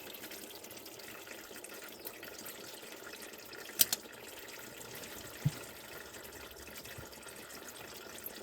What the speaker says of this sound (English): See, we're starting to drain out now.